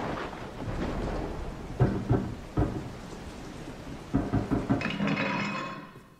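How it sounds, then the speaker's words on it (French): Steady rain with rolling thunder in the horror video game Resident Evil 7, a continuous wash of rainfall broken by several loud, close thunder cracks and rumbles, with no voices. "J'avais un bruit de pluie, hein."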